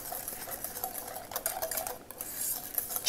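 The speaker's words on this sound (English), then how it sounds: "We're going to whisk this all together." Olive oil dressing being whisked in a bowl, a quick, close, rapid metallic clicking and scraping that runs continuously and faintly, with no talking.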